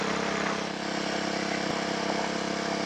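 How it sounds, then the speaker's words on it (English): A steady, droning motorcycle engine heard while riding near Ozark, Missouri, loud and constant with a broad rushing wind-like roar and no breaks. "Riding my motorcycle that I love."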